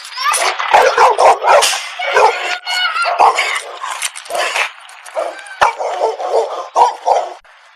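A dog barking outdoors in a yard during a tense police encounter, with repeated loud, sharp barks and yips in quick bursts, close by and mixed with shouting voices.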